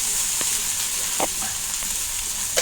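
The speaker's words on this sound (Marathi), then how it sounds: "भाजताना आता ह्यामध्ये एक पळी तेल टाकून भाजून घेते" Cut okra frying in a ladleful of oil, a steady close sizzle with occasional soft stirring scrapes and small pops.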